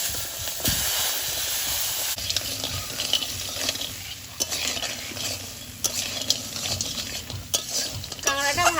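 River crab frying in hot oil in a wok sizzles steadily at moderate level, broken by several sharp clatters of a spatula stirring against the metal.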